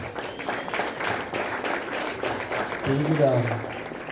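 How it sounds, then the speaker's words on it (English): A crowd at a high school award ceremony claps in steady applause while a voice speaks over it, the clapping continuing throughout at moderate volume. "give him a round of applause"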